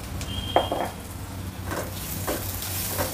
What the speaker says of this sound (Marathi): त्या पण थोड्याशा आपण परतून घेऊया